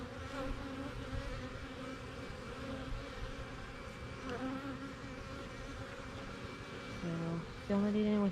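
Honey bees fill comb with nectar, giving a steady, close, dense buzzing hum of many insects that swells slightly toward the end with a few higher tonal whines.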